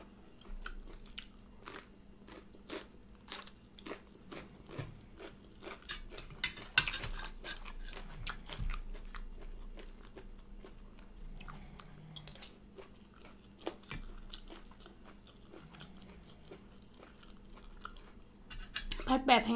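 Someone eats spicy stir-fried chicken gizzards with basil and a fried egg, with close, crunchy chewing and bites alongside soft clinks of cutlery on a plate, the sounds coming in irregular bursts over a quiet background.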